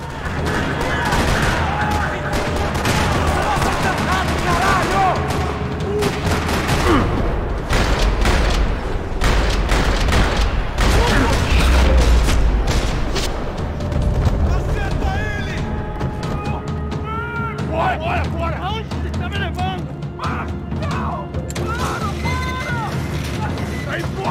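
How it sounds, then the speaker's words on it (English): Rapid bursts of video game gunfire in a parking lot in Max Payne 3 crackle and boom in heavy volleys, with mechanical clanks and voices shouting in between, loud and close. "Another parking lot rattling with gunfire."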